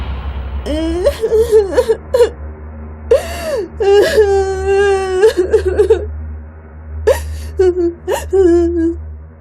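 A young child of about four or five, voiced in an animated Hindi story, cries and wails in loud, close, sobbing bursts with whimpers and gasps between them, continuous through the clip.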